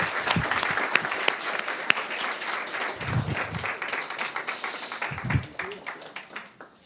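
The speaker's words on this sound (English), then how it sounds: "An applause. All the winners." Crowd applause for the winners at the finale of a social sustainability hackathon, dense and steady clapping from many hands that thins slightly toward the end, with a few brief voices mixed in.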